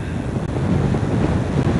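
Steady wind rumbles and buffets against the microphone, a dense low roar that continues without pause.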